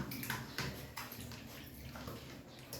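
Two-month-old husky puppies being bathed, with water running and splashing steadily into a tub throughout, fairly quiet and close.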